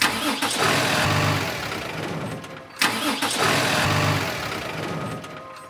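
Sound effect of a bus engine's self-starter cranking without catching: two loud, close grinding cranking bursts separated by a short pause, each fading without the engine firing.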